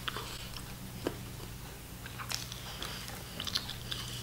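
Crisp bites and wet chewing on an apple, a few sharp crunches standing out over a steady low hum, close to the mic with no talking.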